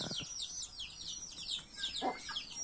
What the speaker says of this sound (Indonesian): ini ayam-ayam saya kecil-kecil ini berisik banget nih